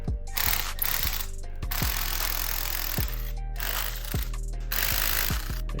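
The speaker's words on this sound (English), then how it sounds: "So I'm disconnecting the fuel rail, starting with what looks like a 12mm bolt." A ratchet wrench clicks steadily while loosening a 12mm bolt on the fuel rail of a 2013 Lexus LS460, with rapid pawl ticks in repeated strokes and short pauses between them, close and alone.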